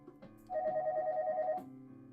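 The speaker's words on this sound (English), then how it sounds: "I heard the phone ringing downstairs." Telephone ringing as a visual novel sound effect, a single electronic ring tone of about a second that stands out loud and steady over quiet background music.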